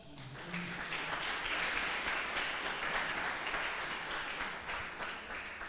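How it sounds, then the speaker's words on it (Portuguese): Church congregation giving a round of applause during a teaching service, steady even clapping at moderate distance that fills the room throughout. "Vamos agradecer a Deus, uma linda salva de palmas."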